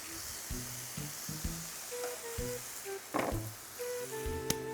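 Chicken sizzling in a pan with oil, a steady moderate hiss with intermittent crackles and pops, and a brief clatter near the end, no voices.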